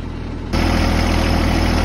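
A Branson 2610H tractor fitted with a backhoe idles close by, a steady low rumbling engine drone that jumps noticeably louder about half a second in and then holds even and constant.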